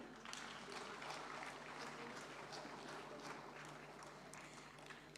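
An audience applauds at a national conference of rural cooperative banks, a dense, continuous wash of many hands clapping that holds steady from start to finish at a moderate, slightly distant level, with no voices over it.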